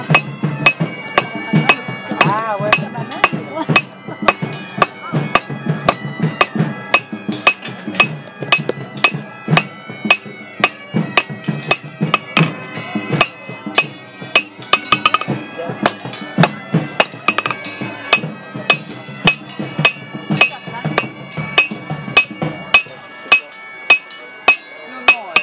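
A hammer pounds hot metal on an anvil while forging the socket of an arrowhead, with dense rhythmic ringing blows, loud and close, continuing for a long stretch before a sudden stop.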